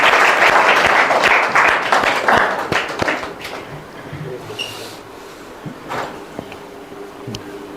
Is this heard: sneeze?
no